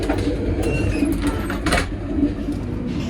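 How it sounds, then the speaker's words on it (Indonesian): Steady rumble and clatter of a train passing close by, probably the Bangunkarta, heard alongside a moving train near Cirebon station in Indonesia, with continuous broadband noise and brief hiss bursts throughout. "Papasan dengan kereta apa ini, Bangunkarta kayaknya."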